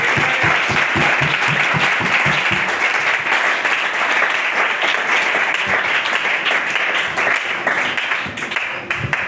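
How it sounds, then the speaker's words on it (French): A church congregation bursting into loud, sustained applause with dense clapping that holds steady throughout, fading only slightly near the end. "Acclamons très fort."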